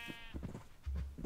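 Blocky sheep bleats from the video game Minecraft, two or three short nasal baas in quick succession, close and clear, with no talk.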